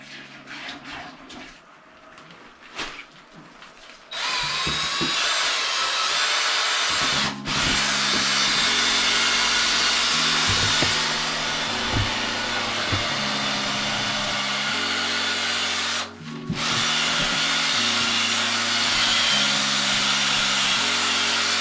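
A power drill mixing joint compound with water whirs continuously and loudly, its pitch stepping up and down as it churns the thick material, pausing briefly twice.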